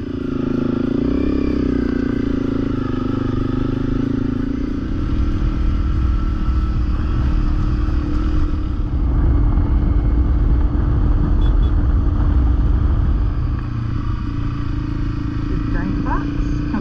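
A motorcycle rides along 14 Mile Road near Bronte Park in Tasmania, Australia, on a cold day, its engine rumbling steadily and loudly throughout, with wind noise over it.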